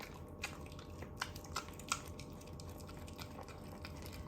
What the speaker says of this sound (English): There's not always that much dripping